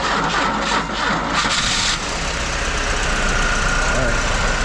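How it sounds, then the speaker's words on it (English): A budget Chevrolet S10 pickup's engine, freshly tuned up, runs loud and close at a rough, steady idle after starting, a continuous low rumble that dips briefly early on and then settles. "I guess we're gonna do a startup, hopefully, and see how it sounds"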